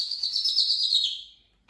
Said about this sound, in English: the twitter of the birds among the trees